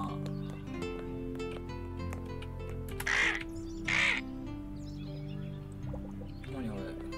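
Crows caw in the video game Rain On Your Parade, two loud harsh calls standing out over layered game music and effects, with a voice talking underneath.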